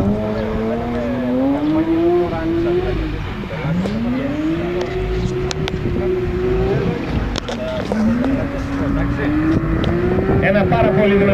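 A powerful BMW drift car built for drifting roars around the Lagkadas kart track near Thessaloniki, its engine revving up and down in repeated loud sweeps with tire squeal and bursts of noise.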